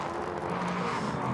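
Prototype race cars run side by side at the Norisring street circuit, a continuous loud engine drone with a steady pitch line holding throughout, no commentary over it.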